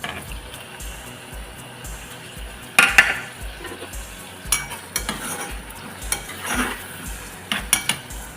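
Tomatoes fry in a pan on a home gas stove while a utensil stirs and scrapes, giving soft sizzling under repeated clinks and clatters of cookware.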